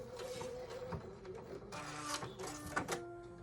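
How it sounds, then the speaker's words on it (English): Sewing machine stitching a jacket seam: a steady mechanical whirring and rapid ticking that runs with short pauses and restarts, close and fairly quiet, with no talk over it. "Stitching all the way to the end."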